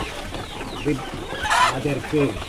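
Chickens cluck in short bursts nearby, with a brief louder squawk in the middle, against a busy background of low murmuring voices.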